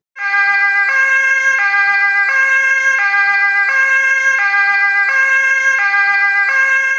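An ambulance siren wails loud and close in a steady two-tone pattern, alternating high and low pitches about every second, with no voices over it.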